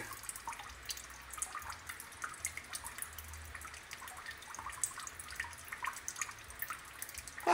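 A weak trickle from a faucet in Kawit, Cavite, heard as thin, irregular dripping and splashing into a basin, close and fairly quiet with no talking.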